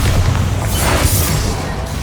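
Bombarda explosion spell in Hogwarts Legacy, a dense close boom with heavy low rumble and a crackling burst spread across the whole short moment, slowly easing off.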